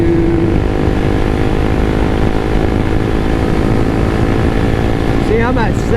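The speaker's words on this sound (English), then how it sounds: "the bike is just shaky, it's loud" A Honda CBR300R motorcycle cruising at high RPM, its engine a loud, steady, buzzy drone with strong wind rush, and a rider speaking over it.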